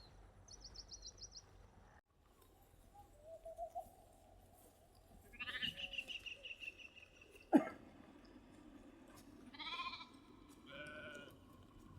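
Sheep, kept by a shepherd during the rainy season, let out several separate bleats at moderate distance over a quiet outdoor background, with faint bird calls at the start.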